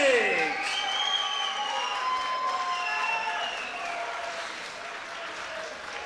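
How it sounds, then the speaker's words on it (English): A crowd at a boxing event in Merry Hill Community Hall cheers and applauds a fighter, with rising and falling whoops and whistles over sustained clapping that slowly settles. "please give me applause going for Iain Postlethwaite."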